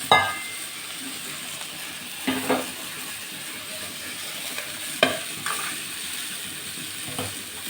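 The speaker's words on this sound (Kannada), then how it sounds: "ಇದಕ್ಕೆ ಒಂದು ಒಗ್ಗರಣೆ ಕೂಡ ಕೊಡೋಣ" Mustard seeds crackle and hiss in hot oil as a tempering for ridge gourd chutney, a steady close sizzle broken by a few sharp clinks of a spoon against the pan.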